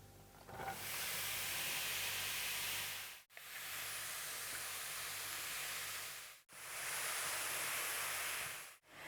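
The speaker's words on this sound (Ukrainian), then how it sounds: "Далі тушкуємо їх на сковорідці на вершковому маслі." Steady broadband sizzling hiss of apples stewing in butter in a frying pan, continuous and close, with two brief breaks where the sound cuts out.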